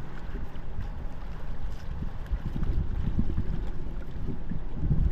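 Steady wind rumbling against the microphone on a rocky shore by open water, a low, continuous buffeting with gusts that swell slightly toward the end.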